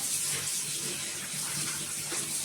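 Tap water runs steadily and close by while fish heads are washed for a Thrissur-style fish head curry, a continuous bright hiss with no talking.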